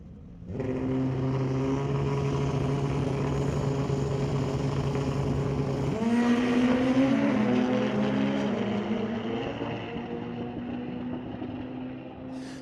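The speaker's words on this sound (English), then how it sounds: "Heads up race on these Pro Mod bikes, well over 200 mile per hour" Pro Mod drag racing motorcycles at well over 200 mph scream down the strip in a sustained loud engine howl, pitch shifting sharply midway as they pass, then fading slightly toward the end.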